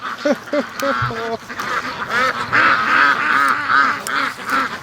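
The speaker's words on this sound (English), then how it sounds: "Oh, we got 3 ducks in the pen." Three free-range ducks in a pen quack loudly and repeatedly, a close, busy chorus of overlapping calls with a few honking notes mixed in.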